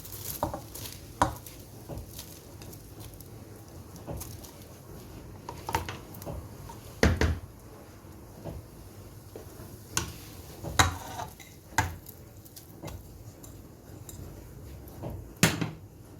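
Carrots stirred into milk boiling in a pot: a spoon scrapes and clinks against the pot in irregular taps, with a soft bubbling and sizzle underneath, fairly quiet and close.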